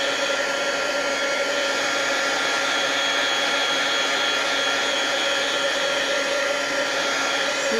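A heat tool blowing hot air to dry card stock for a handmade card, a loud, steady, close whooshing hiss with a faint whine, continuous and unbroken throughout.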